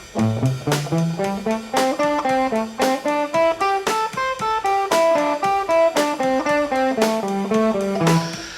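Electric guitar plays rapid runs of single notes up and down, evenly picked like a practice scale, clean and close.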